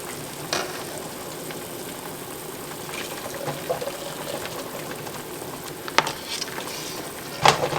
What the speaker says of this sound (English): So now we're to a boil. We're going to let it boil 1 minute.